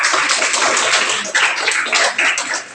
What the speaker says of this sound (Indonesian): Tepuk tangan dong untuk kita.